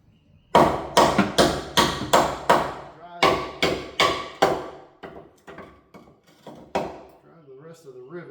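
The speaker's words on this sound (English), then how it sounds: "drive the rest of the rivets out" Rivets are hammered out of the front end of a 1972 C10 truck. About a dozen loud, ringing metal blows land close by in a steady rhythm, then grow softer and more spaced before trailing off.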